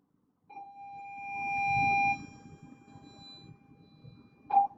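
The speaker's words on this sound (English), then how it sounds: "excuse the bell" An electronic bell rings with a sustained, steady tone for about a second and a half, then chimes again briefly near the end, set against faint background murmur in a classroom setting.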